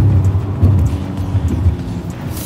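A Porsche brakes hard with two wheels on the grass during an emergency stop in a bend at advanced driver training, giving a steady loud low rumble of engine and tyres throughout.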